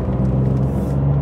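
Low, steady rumbling idle of a small three-cylinder Fiat engine of about 70 horsepower, close and fairly loud with an even drone and no talking.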